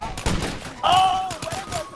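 Rapid gunfire bursts rattle through State of Decay 2, loud and close, with a quick string of shots over a short stretch.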